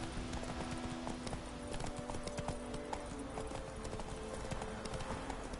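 A horse galloping in the video game The Witcher 3, rapid rhythmic hoofbeats held at a steady pace under a continuous game ambience.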